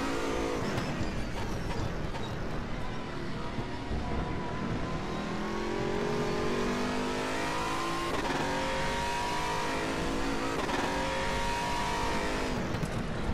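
Sim race car in RaceRoom Racing Experience, an Aquila CR1 Sports GT, screaming at about 270 km/h down a long straight, a loud sustained engine drone with rising gear-change sweeps and no talk throughout.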